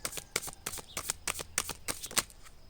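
Tarot cards shuffled by hand, riffled in a rapid run of crisp, close flutters and slaps with a steady rhythm, heard alone without talk.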